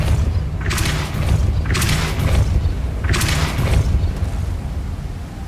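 Depulso spell cast in Hogwarts Legacy, three loud booming blasts with a bright whooshing burst each, spaced about a second apart over a steady low rumble of game sound.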